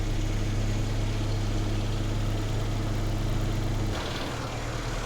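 A 45-year-old Datsun engine idles steadily with a deep, even rumble and a vacuum leak present, its pitch dropping slightly near the end as the choke is closed and the idle settles lower.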